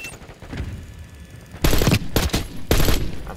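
A burst-fire weapon in Call of Duty: Black Ops 6 fires loud, sharp volleys of shots, three short bursts in quick succession after a quieter opening.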